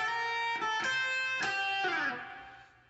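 Distorted electric guitar phrase from a song, a few picked notes in succession, closing with a downward slide that fades out, played alone without talking.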